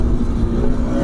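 Bajaj Pulsar RS200 BS6 motorcycle accelerating through the gears on a top speed run, a steady loud engine drone with a strong low hum and constant wind rush, no pauses.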